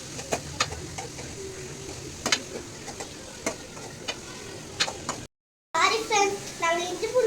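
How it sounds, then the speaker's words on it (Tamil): Onions sauté in a pan for a chicken and potato gravy, giving a steady soft sizzle broken by sharp clicks of a spatula stirring against the pan, with a short silent gap near the end. "இப்போ வதக்கலாம்."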